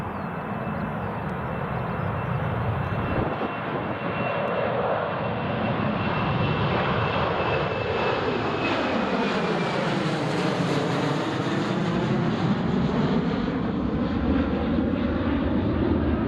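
A fully loaded Ryanair Boeing 737 takes off from runway 25 at Newcastle International Airport, a loud, continuous jet roar that sweeps in pitch as the aircraft passes, with no talking.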